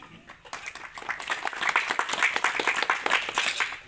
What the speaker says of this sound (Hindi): इनके लिए एक ताली तो बजा दीजिए आप लोग।